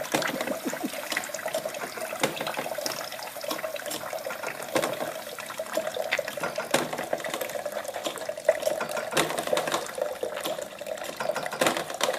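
Apple juice runs from a homemade cider press in a steady, close trickle, a continuous wet splashing that keeps going for the whole stretch with a few small knocks, and nobody speaks.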